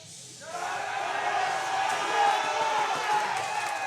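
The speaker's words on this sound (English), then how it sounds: "Getting a big cheer from the crowd." A crowd at a powerlifting meet rises into loud, sustained cheering and shouting that swells and holds across the moment.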